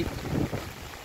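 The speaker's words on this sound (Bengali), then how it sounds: "এই যে হাওয়া বইছে" Wind blowing through a street with leaves stirring, heard as a steady broadband rush with low gusty rumble against the microphone, swelling briefly near the start then holding even throughout.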